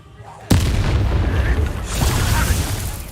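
The Bombarda explosion spell in Hogwarts Legacy goes off as a sudden loud boom, followed by a sustained roaring rumble of blast and debris that fills the rest of the moment.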